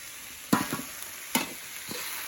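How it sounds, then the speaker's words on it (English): Vegetables sizzle quietly in a pan over a wood-fired rocket stove, broken by a couple of sharp stirring scrapes and a crackling hiss underneath. "The vegetables are sizzling."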